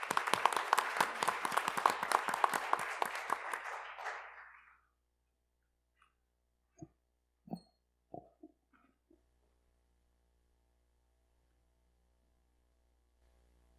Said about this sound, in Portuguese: Uma salva de palmas ao nosso palestrante.